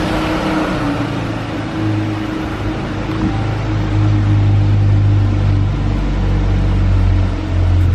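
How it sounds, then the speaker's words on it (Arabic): A car engine revs near a parked vehicle, a steady low rumble that swells louder in the second half, heard alone with no talk. "عايزين نسمع صوت موتور."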